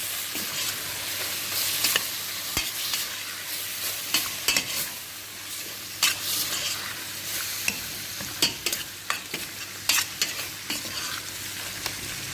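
Tomato paste being stirred into rice with fish in a sizzling pan, with steady frying hiss and repeated scraping clicks of a utensil close up.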